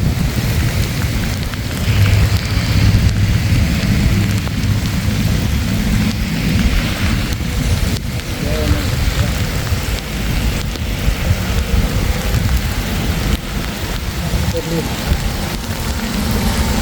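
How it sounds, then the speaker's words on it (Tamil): Heavy rain pours down steadily in a fishing area, a dense, loud hiss of drops hitting surfaces that continues throughout, with a low rumble and faint voices now and then underneath. "இப்போ பார்த்தீங்கன்னா சரியான மழை"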